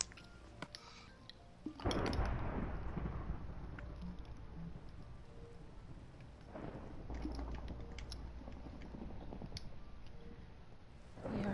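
A thunderstorm rolls through the video game Minecraft, with two deep rumbling thunder swells breaking over a steady wash of rain, distant and fairly soft.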